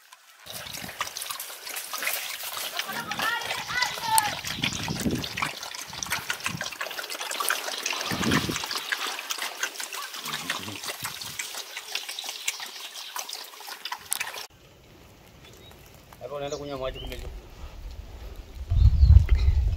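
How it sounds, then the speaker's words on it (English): Water trickles and splashes steadily at a natural spring used by the Hadzabe for drinking and collecting water, a close continuous burble that briefly drops away before resuming. "they often visit the spring to drink and collect the water"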